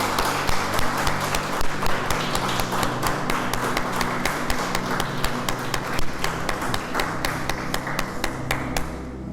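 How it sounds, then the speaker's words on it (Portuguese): A church congregation claps during a worship service, a dense run of sharp hand claps that keeps a steady, fast rhythm throughout, loud and close, then fades out near the end. "Vamos aplaudir o Senhor"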